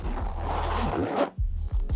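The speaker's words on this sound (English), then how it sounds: "the zips also feel really high quality" Zipper on a Bellroy Toiletry Kit Plus bag being pulled in one long steady zip, then a few short quick tugs, close and clear with no talking.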